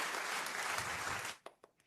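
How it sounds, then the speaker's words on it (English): Audience applause on a talk show, a dense burst of clapping for over a second that stops abruptly, followed by a few scattered isolated claps. "That's the applause we were looking for"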